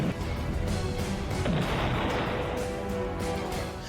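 Artillery cannon fire in the Ukraine war, a dense, continuous roar of heavy booms and blasts with a sharp crack around the middle, loud and close throughout.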